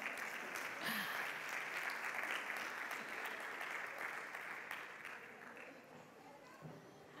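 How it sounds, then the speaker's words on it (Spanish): An audience applauds councillor Carmen Pérez at a tech event, with sustained, even clapping and light crowd chatter throughout, tapering slightly toward the end. "Un aplauso"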